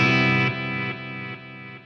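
Walrus Audio Mako D1 guitar pedal set as a modulated vintage reverb: a sustained, lush chord that swells then fades in stepped, shimmering decays with no attack, loud and alone with no voices.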